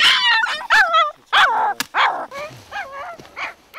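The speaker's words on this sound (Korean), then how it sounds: "겁에 질린 새끼는 세상에 태어나 가장 세차게 울부짖습니다" A frightened feral puppy howls and yelps loudly up close, a rapid series of high, wavering cries with short gaps between them.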